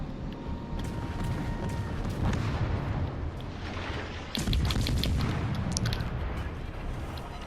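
The Vampire, a tier 2 destroyer in World of Warships Legends, fires its guns in a naval battle, giving dense rolling booms and blasts over constant loud rumbling engine and sea noise.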